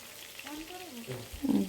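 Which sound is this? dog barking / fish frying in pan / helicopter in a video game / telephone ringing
fish frying in pan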